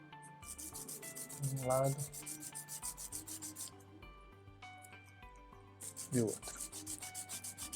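Aluminium can pen pieces rubbed with sandpaper in two short rasping bursts, under someone speaking Portuguese with background music.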